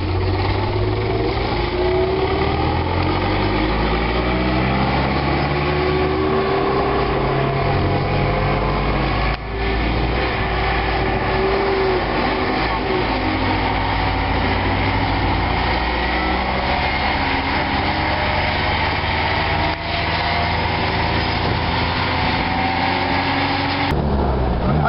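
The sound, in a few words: vintage Bentley 4.5 Litre car engine running, gear whine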